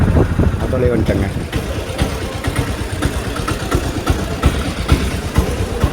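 An auto rickshaw engine rumbles steadily on a ride to the airport in Kochi, a close, continuous mid-pitched drone with a voice talking over it.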